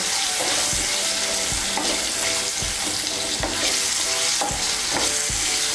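Potatoes fry in oil with salt and turmeric, a loud, continuous close sizzle with rhythmic scrapes and knocks as a spatula stirs them around the pan.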